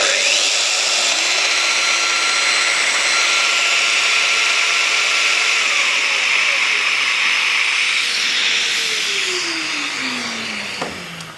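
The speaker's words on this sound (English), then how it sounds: "we just get our domino jointer, line it up with our marks" A domino jointer plunging mortises into redgum during a coffee table restoration, a loud steady high motor whine with a hissing rush that winds down at the end, with speech underneath.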